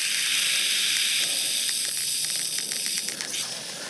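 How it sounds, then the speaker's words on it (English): Hose-end dispenser dosing a wetting agent made from baby shampoo as its dial is turned, giving a steady close fizzing hiss with faint intermittent clicks toward the end. "I turn the dial until that starts to fizz, just gently, and very gently until it clicks and fizzes."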